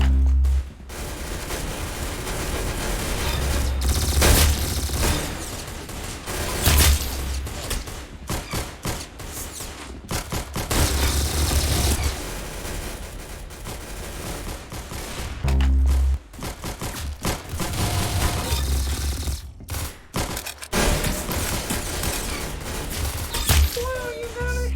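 Loud, sustained automatic gunfire from a shooting video game, long rattling volleys broken by brief pauses and heavy low booms, continuing for the whole stretch.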